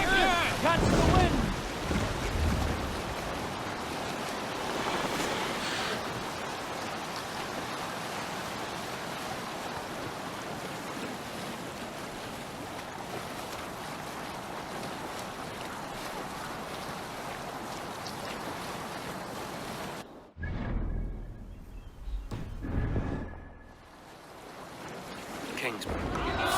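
A Viking longship sails across open sea in Assassin's Creed Valhalla, with steady rushing wind and wave wash that drops out briefly near the end before returning, and with a little game speech at the start.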